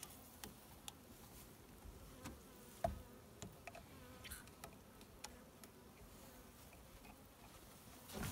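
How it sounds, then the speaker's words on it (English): Honey bees buzz faintly inside sample cups during a hive health check, a low steady drone broken by scattered light ticks and taps. "So we're just gonna divide these bees into two cups, get a more accurate shake."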